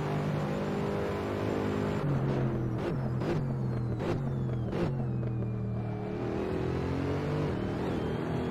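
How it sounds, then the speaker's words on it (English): Mercedes SLS GT3 race car in Assetto Corsa around Monza, its engine droning steadily with sharp gear-shift dips and rising revs, loud and continuous with no voices. "Great sound of the car though."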